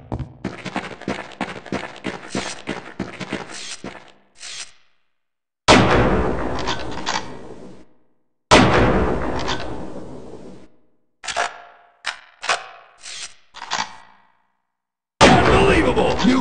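Gunshots ring out at a long-range firing drill in the Half-Life Opposing Force video game. There are several sharp, loud reports, some single and some in quick clusters, separated by silent gaps, with speech mixed in between.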